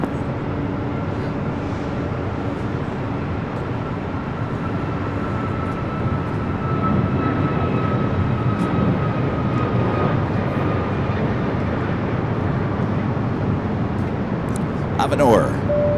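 A jet airliner, an Airbus A380, takes off from runway 6 Right at Los Angeles International Airport, a steady broad engine roar holding for the whole stretch and swelling slightly toward the end, with faint radio chatter mixed in.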